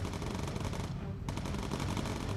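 Rapid bursts of gunfire from enemy fighters in the Bomber Crew video game crackle loudly and almost without a break, with one short gap in the middle.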